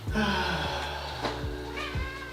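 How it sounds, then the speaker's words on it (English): A cat meows in a few short, fairly quiet calls close by, with rising and falling tones and no talking. "Meow."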